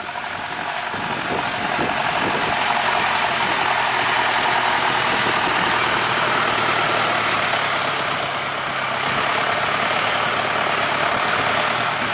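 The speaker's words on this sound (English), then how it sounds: "So here's an N101 rolling the pit here." A Valtra N101 tractor rolls a first-cut silage pit, its heavy engine a low, steady drone heard from on top of the pit and partly masked by loud, continuous wind buffeting.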